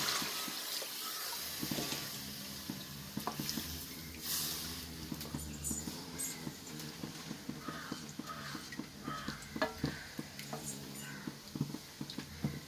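Water pours and splashes into a pot of anchovy fish soup in uneven bursts, with clinks of utensils and faint background noise throughout.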